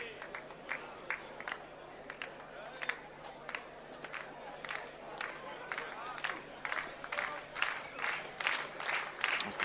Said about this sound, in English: the crowd gets into it and starts clapping